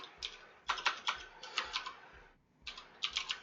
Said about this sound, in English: Typing in passwords on this keyboard is difficult though because of the fact that I've got no key faces on this keyboard.